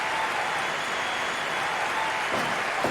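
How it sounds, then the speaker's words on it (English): A wrestling crowd claps and cheers in a steady wash of applause at a fairly even level, with faint voices mixed into the noise. "The crowd are loving it."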